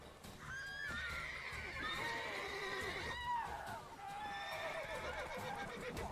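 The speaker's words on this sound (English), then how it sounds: "Who let the horses go? There's a horse in the way." Repeated horse whinnies and neighs in the video game The Witcher 3: Wild Hunt rise and fall over hoof clip-clops, loud and close, with a voice briefly underneath.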